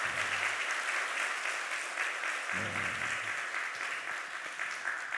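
A church congregation applauds during a Sunday worship service, a steady wash of many hands clapping at moderate distance, with a short low murmur of voices underneath partway through.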